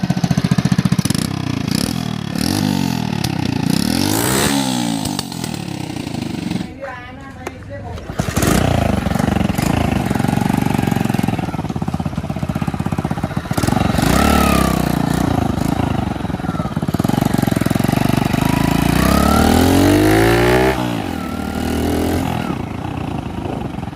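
A customized 100cc BMX cub motorcycle with a Splendor engine revs repeatedly, rising and falling sweeps of a small engine close by, with people talking over it.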